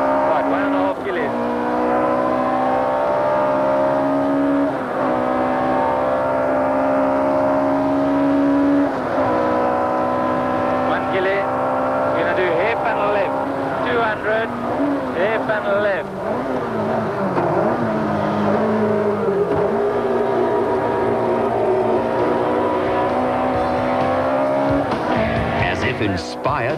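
A 1991 Toyota rally car engine roars continuously at high revs, shifting pitch through gear changes as it drives fast onto a runway, loud and steady, with speech layered over it.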